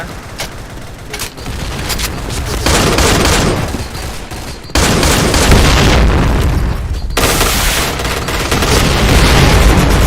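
Rapid bursts of automatic gunfire from the Point Blank shooting game, loud and dense with repeated volleys crackling almost continuously and brief gaps between heavy stretches, with no talking.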